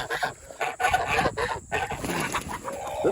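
Several chickens cluck and squawk close by in a busy, overlapping chorus that continues without a break.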